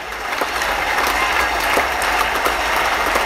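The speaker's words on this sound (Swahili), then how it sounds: "ongeza makofi kwa Yesu Kristo" A church congregation applauds for Jesus Christ, a dense, steady wash of many hands clapping together, sustained loudly throughout with no pauses.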